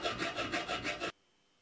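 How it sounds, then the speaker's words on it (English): Hand file rasping along the edge of an iron square tube in a workshop, several quick rhythmic strokes close up, then it stops abruptly into silence. "The edge of the iron square tube is filed"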